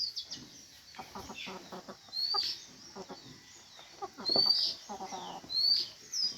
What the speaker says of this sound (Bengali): চারটা মুরগি আর 3টা মোরগ আছে এখানে।